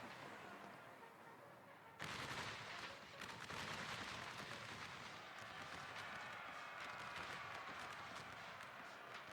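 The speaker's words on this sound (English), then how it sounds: "Ooh, artillery shots on the 1st Texas." Artillery fire in an American Civil War battle game, a faint, continuous crackle of distant gunfire and booms that swells suddenly and carries on steadily, with no talk.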